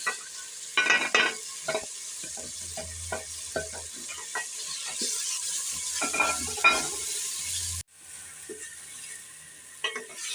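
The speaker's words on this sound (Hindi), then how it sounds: "अब हम हरी मिर्च टमाटर इसमें भून देंगे" Green chillies and tomatoes sizzle steadily in a pan while a utensil stirs and scrapes against it in irregular strokes, close by; the sizzle briefly drops off before resuming.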